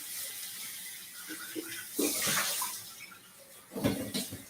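Tap water runs in short bursts as a container is rinsed out in a kitchen sink, with splashing surges and quieter gaps between them.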